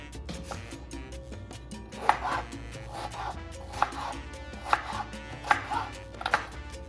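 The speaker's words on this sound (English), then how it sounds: "Cut up the jalapeno, then the tomato." A knife chops jalapeno and tomato on a board in a home kitchen, with a run of crisp, evenly spaced cuts that come faster toward the end, close and fairly clear over faint room noise.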